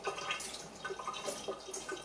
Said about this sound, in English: then you can give that a good rinse